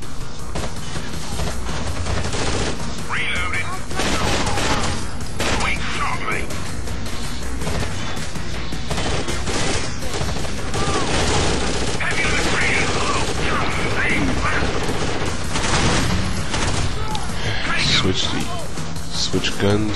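Gunfire from the video game Rainbow Six Vegas at a casino construction yard, dense shots and crashing booms in a constant loud barrage with game audio and voices mixed in.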